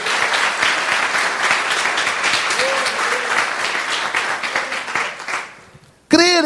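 A church congregation claps together in praise to the Lord during a morning service, a loud continuous patter of many hands that gradually fades, with a voice briefly heard and a sudden loud burst at the very end.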